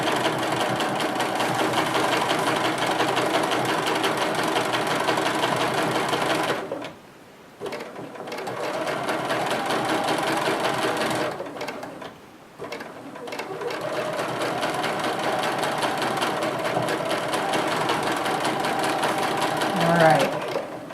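A sewing machine runs steadily, stitching a finishing line across a quilt, with two brief pauses where the motor stops before it resumes at an even, close, continuous hum.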